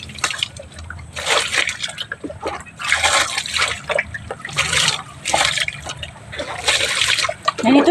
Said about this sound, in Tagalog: Ganito lang yung aming tubig mga kaburakday.